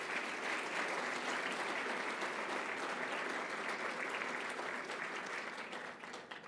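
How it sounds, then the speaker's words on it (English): Sustained applause from an audience of a couple of hundred people at a social entrepreneurship awards ceremony, dense and steady throughout and thinning slightly at the end. "let's give them a round of applause"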